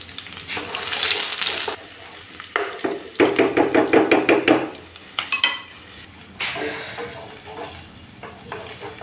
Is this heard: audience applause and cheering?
no